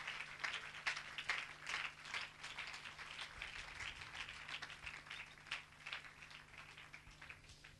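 A church congregation applauds through a morning Spanish-language service, a steady wash of clapping at moderate distance with a faint low hum beneath and no voices over it.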